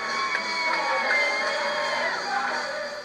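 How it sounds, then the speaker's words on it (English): A church congregation cheers for its returning pastor, a steady roar of cheering and whoops from a crowd in a hall, moderately loud and continuous throughout. "This is Pastor Freeman the day he came back to his church, surrounded by a cheering congregation"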